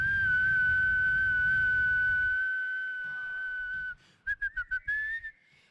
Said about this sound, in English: That was a whistle to distract him